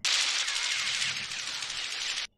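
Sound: machine gun fire in the movie Top Gun

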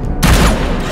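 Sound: wild shot attack in the video game Battle Chasers Nightwar

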